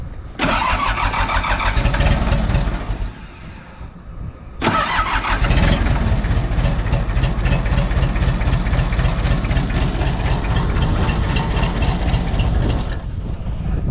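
A Mitsubishi BD2F dozer's old diesel engine, being revived after years, cranks and catches, dies briefly, then restarts and runs with a loud, close, rapid knocking rhythm that holds steady until near the end.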